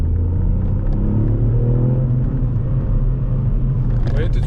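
A Ford Fiesta ST with a 200 hp engine accelerating, its engine rumbling low and rising steadily in pitch as it revs, heard from inside the car, with a voice speaking over it.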